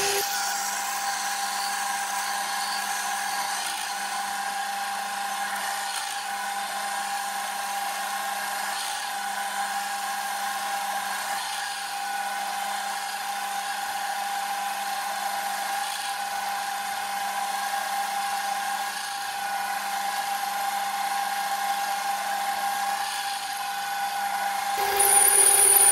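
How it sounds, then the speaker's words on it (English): Power drill boring out the main shaft of a mains-electric water pump motor with a 6 mm bit, a continuous high whine held steadily for a long stretch before rising louder at the very end, no talk. "just drilling the main shaft out to 6 mil drill, and then 7 thread"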